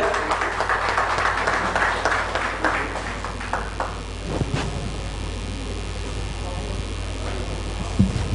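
Applause from an audience at a smart city award ceremony in Bhopal, a dense wash of clapping that builds and fades over several seconds, heard with murmuring voices and a brief knock near the end.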